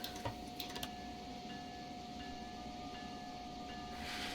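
An Amtrak train starts moving underground at New York Penn Station, heard from inside as a faint, steady hum with a constant electrical tone and a few sharp clicks near the start.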